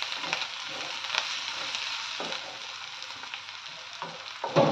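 Onions and kakoda, the jungle bitter gourd, fry with coarsely crushed fennel in a pan, giving a steady close sizzle with a few soft stirring scrapes and a louder burst at the end.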